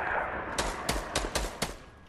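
Gunfire in Fortnite, five sharp shots in a quick irregular burst, fairly distant and faint over a steady background hiss, with no talking.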